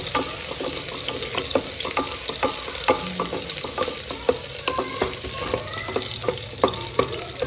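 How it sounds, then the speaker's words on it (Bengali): A whole sliced onion frying in a pan for vegetable dal is stirred steadily, with a continuous crackling sizzle and repeated sharp scrapes and clicks of the spoon against the pan, close and clear, with no talking. "পেঁয়াজটা হালকা করে নাড়াচাড়া করে নেব।"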